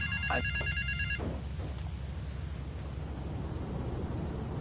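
A phone rings in GTA III: The Definitive Edition, a short electronic trill near the start over a steady low hiss and rumble, with no speech.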